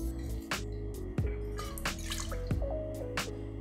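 Mezcal poured into a jigger or glass for a cocktail, with close, bright trickling and dripping liquid sounds in short splashy bursts, no voices.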